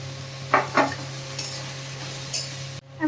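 Grated ginger and garlic drop into a frying pan for pasta and are stirred, giving two soft sizzling scrapes near the start, then quieter stirring and a light clink before an abrupt cut.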